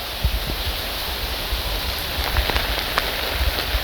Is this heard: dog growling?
no